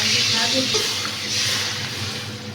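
Water hits a hot pan of frying spinach for rosha, giving a loud, steady sizzling hiss that stays fairly even and tapers slightly, with a faint voice underneath.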